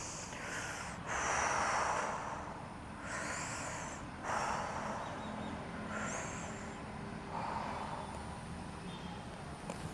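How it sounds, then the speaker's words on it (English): Breaths drawn in through the nose and pushed out through the mouth during a fascia exercise routine, several slow, close, airy rushes spaced about every one and a half seconds over faint background noise. "Inhale through the nose, exhale through the mouth."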